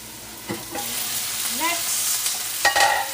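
Vegetables cook in a pan with the lid on, giving a soft continuous sizzle with a few light clinks and stirring scrapes close by.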